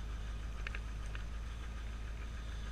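A carbureted 383 V8 in a 1985 Corvette C4 idles with a low, steady rumble, faint and even, with a couple of small clicks over the drone.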